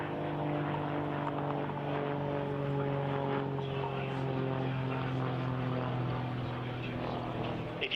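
At an RAF Cosford air show, a Grob Tutor propeller aircraft flies a display pass at low altitude, its engine drone steady and fairly loud, with the pitch shifting slightly as it passes.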